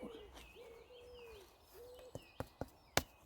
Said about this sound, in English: You can hear the bird life.